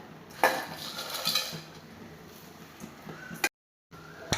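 Bitter gourd fry being tossed with chili powder in a pan, with scattered clinks and scrapes of a utensil against metal, a few sharper knocks, close by and without talk.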